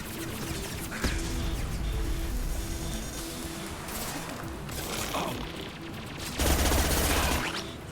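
Rapid automatic fire from a high-rate weapon with a 50-round thermal clip in Mass Effect 2, a continuous loud burst of shots running the whole stretch with heavier impacts near the end.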